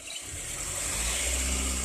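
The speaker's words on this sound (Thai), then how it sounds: "ลองเร่งแล้วฟังเสียงเครื่องยนต์ดูครับ" A car engine revs up as the accelerator is pressed, a steady low rumble rising and thickening over about two seconds, close and continuous with no talking.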